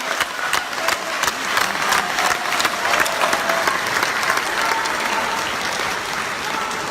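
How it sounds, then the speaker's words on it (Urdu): Loud, sustained applause from a large crowd at a political speech, sharp individual claps standing out early before settling into a steady roar of clapping. "تاجر برادری کے لیے تالیاں پلیز"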